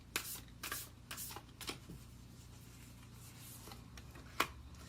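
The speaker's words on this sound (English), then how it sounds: "I love these cards. They shuffle really well." Tarot cards are shuffled by hand in quick, soft riffles and slides, several bursts close up and quiet, with no talking.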